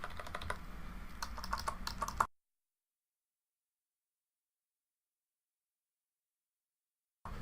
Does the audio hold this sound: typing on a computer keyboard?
yes